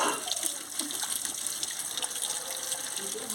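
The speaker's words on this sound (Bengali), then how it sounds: "এই যে বেগুনটা আমি ভালো করে ধুয়ে নিচ্ছি।" Running tap water gushes steadily over eggplant being washed by hand, a constant close splashing rush with no pauses.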